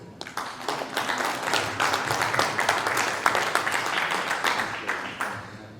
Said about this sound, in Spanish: Por favor, recibámoslo con un aplauso.